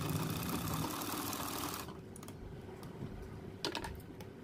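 A sewing machine runs steadily while stitching a curved neckline seam on a garment, a dense mechanical whir that cuts off partway through, leaving quieter handling sounds and a couple of soft clicks.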